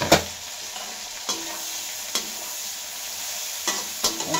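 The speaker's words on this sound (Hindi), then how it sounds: "सब्जियाँ अच्छे से भून गई हैं अब इसी में डाल देंगे हम पानी से निचोड़ के अच्छे से" Vegetables and soya chunks stir-fried for a mixed veg biryani, a steady close sizzle in the pan broken by several sharp scrapes and knocks of the spoon, with no voices.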